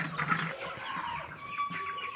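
Peruvidai chickens and chicks on a farm, with continuous overlapping clucking and peeping at moderate distance, forming a busy, steady poultry chorus with no talk.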